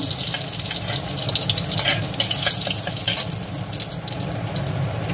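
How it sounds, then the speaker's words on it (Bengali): Bay leaf and a dried red chili sizzle and crackle in hot oil, a loud continuous frying hiss with occasional spatters and stirring scrapes, no voices. "এবার এই তেলের মধ্যে আমি একটু তেজপাতা দিয়ে নেব আর একটা শুকনো লঙ্কা দিয়ে নেব।"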